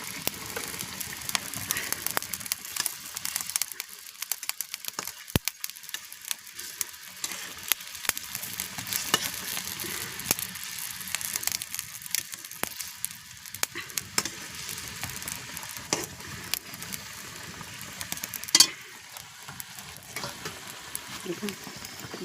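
Fish and brinjal frying in oil in a pan give a steady, moderate sizzle with occasional stirring clatter and a brief louder clink near the end, without speech.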